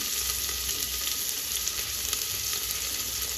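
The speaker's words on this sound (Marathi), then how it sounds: "दोन पळी तेल टाकते मी आणि त्या तेलामध्ये टाकते कांदा एक कांदा कट केलेला आहे मी" Chopped onion fries in hot oil, giving a dense, even sizzle that holds steady and close throughout with no voices.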